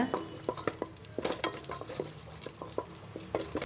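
Stirring and scraping as coconut and cardamom roast in a hot pan for payasam, with a soft sizzle underneath, repeated utensil taps at an uneven rhythm, no voices.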